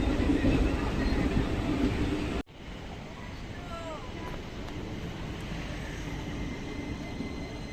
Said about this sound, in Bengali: আর পেছনে আমাদের ট্রেন।